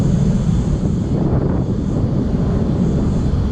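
Steady wind buffets the microphone outdoors by urban drains in Sydney, a constant roaring rush with no pauses and no voices.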